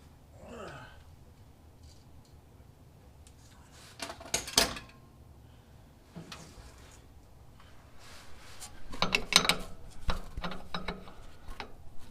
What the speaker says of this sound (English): let me get a wrench in there too